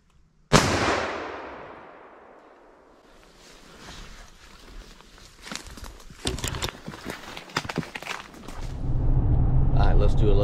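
A single sharp, loud rifle shot cracks out while deer hunting, then fades into outdoor rustling, shuffling and scattered knocks that build toward the end.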